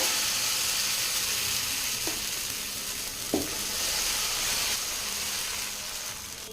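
Adai batter sizzling on a hot pan, a continuous close hiss that stays loud and even, broken by a couple of brief clinks, with no voices.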